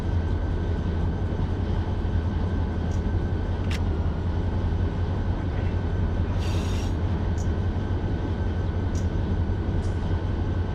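Steady low rumble of a freight train running in the Run 8 Train Simulator game on a California local job from Fresno to Modesto, a continuous loud drone with brief faint high clicks and squeals, no talk.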